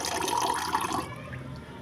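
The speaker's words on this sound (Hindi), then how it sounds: "ये हमने पानी निकाल लिया है" Water pours from a water cooler in a home kitchen in a steady splashing stream for about a second, then cuts off, leaving a quieter trickle and room noise.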